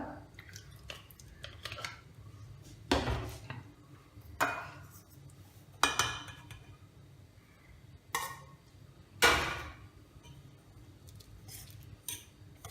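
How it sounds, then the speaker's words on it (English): A spoon works vanaspati and sugar together in a bowl for a fruit cake, making soft scraping and clinking strokes at irregular intervals. The strokes are close but faint, with quiet pauses between them. "Now I am going to cream the vanaspati and sugar"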